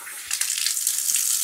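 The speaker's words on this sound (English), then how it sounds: "And start the water again." Hot water runs from a bathtub tap onto a Persian rug, a steady close hiss and splash of flowing water with no voices over it.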